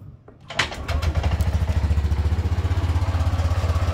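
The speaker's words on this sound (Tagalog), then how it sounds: "So ayan, umandar na yung motor." A Honda Click V3 scooter, just back together after its CVT was cleaned, cranks and fires up, then settles into a steady, loud, close idle with an even rhythmic pulse.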